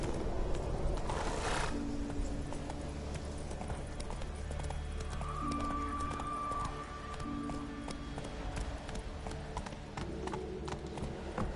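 Horse hooves galloping steadily in The Witcher 3, a rapid clip-clop rhythm running throughout over game ambience and a low musical drone, with a brief voice near the start.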